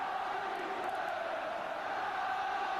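Football crowd at a Tottenham Hotspur v Swindon Town FA Cup replay, a steady broad roar of massed voices that holds at an even level throughout without sharp peaks.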